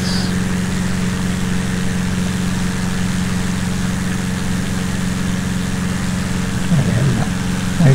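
Cessna 172 piston engine at reduced throttle in flight, a steady droning hum with even low harmonics running continuously at close range, slight rise near the end and a brief voice faintly underneath.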